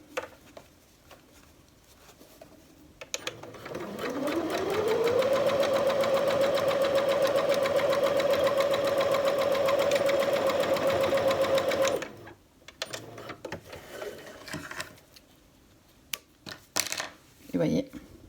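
A sewing machine stitching a hem on a poncho speeds up to a steady, even whir for about seven seconds and then stops, with quiet handling sounds and clicks before and after.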